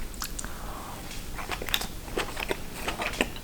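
Close mouth sounds of chewing Mediterranean spaghetti with small octopus and olives, soft wet squishes and light bites in a quick irregular rhythm.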